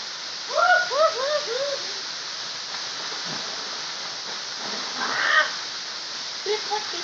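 Panari waterfall in a jungle setting gives a steady, even roar of rushing water throughout, with a few short voices and calls rising over it.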